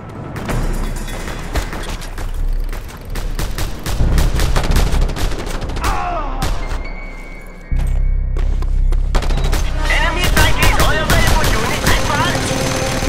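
A mounted gun firing in the video game Just Cause 2, rapid loud bursts of automatic fire with booming impacts over about thirteen seconds, with voices shouting amid the shooting.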